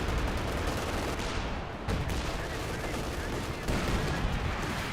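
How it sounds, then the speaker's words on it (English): Artillery and gunfire from the Company of Heroes 2 strategy game, a dense continuous barrage of shots and blasts at steady loudness, with a brief dip near the two-second mark before the fire resumes. "MG-34 does go down to some sort of artillery."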